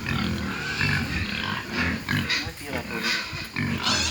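Pigs grunting at feeding time on a small farm pig pen, with chickens nearby, a busy mix of grunts and snuffles throughout while people talk over them.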